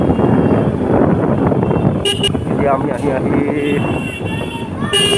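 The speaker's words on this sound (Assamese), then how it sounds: "বিৰাট ট্ৰেফিক পইণ্টত উপনীত হ'লোহি" Busy road traffic at a large junction in Biguria: vehicle horns toot and honk in short bursts over a steady rumble of engines, while a person talks close by.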